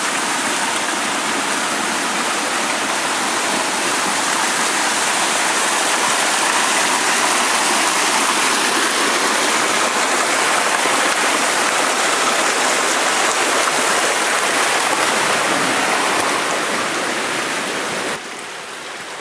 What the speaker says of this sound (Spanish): cruzando dos nacimientos de agua